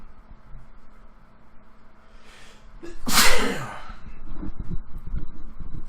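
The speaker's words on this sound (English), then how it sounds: "Hold on, I'm gonna sneeze." A single loud, close human sneeze, a short breathy intake followed by one sharp burst, then quieter rustling and breathing afterward.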